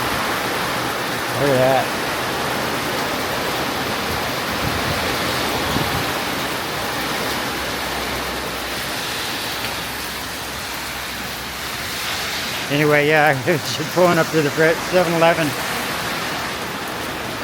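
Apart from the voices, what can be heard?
heavy pouring rain in Thailand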